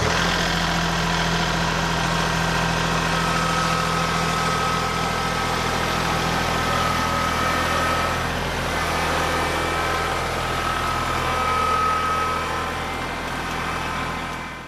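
A tractor engine runs steadily and loudly up close as it drives over a newly installed trail culvert pipe, a continuous droning rumble with slight changes in load.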